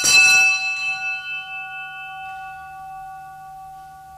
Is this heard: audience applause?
no